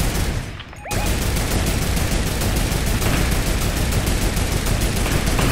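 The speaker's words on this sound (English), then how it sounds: "Somebody shot at me." Sustained rapid gunfire in a duos shooter video game, dense crackling bursts that fill the whole stretch after a brief quieter opening, loud and close with no talk.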